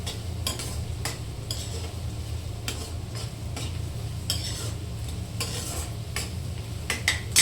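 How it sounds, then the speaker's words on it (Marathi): Onions frying in oil until brown, a low steady sizzle near the pan with sharp metal spatula clinks and scrapes recurring every second or so. "तर चला आता कांदे पण आपले मस्त छान ब्राऊन झालेले."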